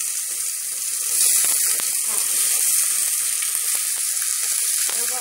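Onion goes into a hot pan and sizzles and fries steadily, close and crackling, while being cooked for canjiquinha com frango.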